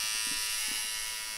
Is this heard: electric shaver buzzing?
yes